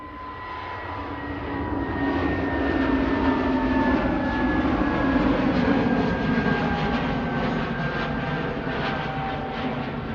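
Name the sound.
EasyJet Airbus A320neo jet aircraft at Manchester Airport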